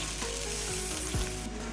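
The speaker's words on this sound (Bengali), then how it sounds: "এবারে মিক্স করা মশলাটা কড়াইয়ে ঢেলে দিব।" Spice paste mixed with a little water hits a hot wok and sizzles loudly, a steady dense frying hiss with a few stirring scrapes, close and continuous with no talk.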